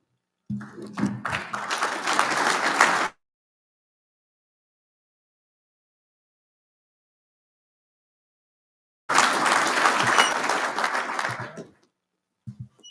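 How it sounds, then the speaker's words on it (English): Applause from the audience at a military awards dinner comes in two separate bursts of dense clapping, each a few seconds long, with silence between them. "Ladies and gentlemen, a round of applause for Major McCarthy."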